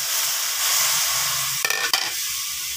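Chunks of squash (kalabasa) frying and being stirred in a pan, a steady bright sizzle broken by two sharp scraping stirs near the end, close and loud with no voices.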